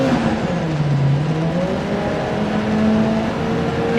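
A rally car engine in DiRT Rally 2.0 rallycross holds steady revs, a loud, continuous droning whine that rises and dips slightly in pitch, alone without voices.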